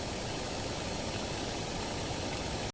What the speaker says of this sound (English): Engines alive. Hear that power.